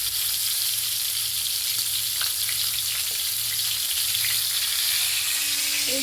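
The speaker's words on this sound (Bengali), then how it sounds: "পটলগুলোকে আমি উল্টিয়ে উল্টিয়ে এখন আর এক পিঠ ভাজবো। এই যে সুন্দর ভাজা হচ্ছে।" Pointed gourd pieces fry in oil in a pan, a steady, dense sizzle holding constant throughout, close and fairly loud, with a faint low hum beneath.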